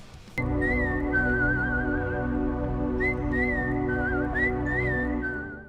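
Melodic whistling from a song rides over a steady band backing, with a sustained wavering tune repeating in short phrases at moderate loudness.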